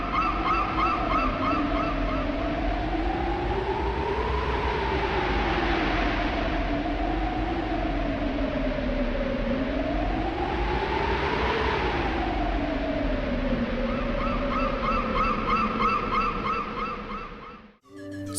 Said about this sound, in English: All that you hear is the breeze flying by and the occasional seagull